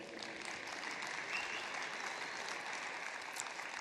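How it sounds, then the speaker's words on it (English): Steady applause from a crowd, a dense wash of clapping heard at a moderate distance, continuing evenly throughout. "can we bring him on with a loud round of applause"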